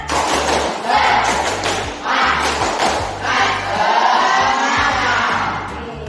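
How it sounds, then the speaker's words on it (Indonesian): Junior high school students in an Indonesian classroom perform a spirit clap, loud group clapping in rhythmic bursts mixed with shouted chanting and thumping, the whole class together and close. "Tepuk semangat."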